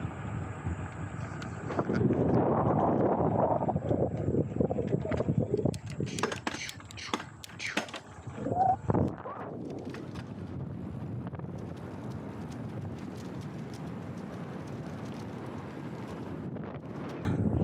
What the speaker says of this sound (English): It's kind of windy, so I don't know if you're gonna be able to hear me